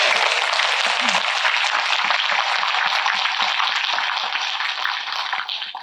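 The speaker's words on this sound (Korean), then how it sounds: "박수 한번 치겠습니다" Audience applause at a special Buddhist dharma assembly at Beomeosa temple, a broad wash of clapping from a large seated crowd, steady and moderately loud, thinning toward the end.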